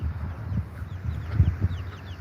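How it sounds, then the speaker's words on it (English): Chickens cluck low and soft in short bursts near the ground, a few nearby grunting calls over faint high chirps in the background, with no talk. "Come here, little chickens."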